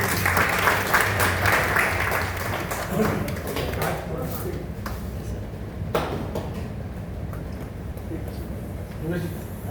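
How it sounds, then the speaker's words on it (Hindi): Applause from an audience at a Kayastha music association gathering in Jodhpur, a dense steady patter of clapping filling the room throughout, with voices talking and calling out over it. "तालियां तालियां तालियां"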